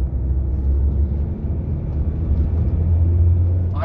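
A Maruti Suzuki Swift car driving in third gear, heard from inside as a steady low engine and road rumble with no speech, holding even throughout and rising a little at the end.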